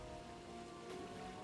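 Steady heavy downpour hissing across the whole stretch in Batman: Arkham City during a Riddler puzzle, a dense broadband wash of water with no talk over it.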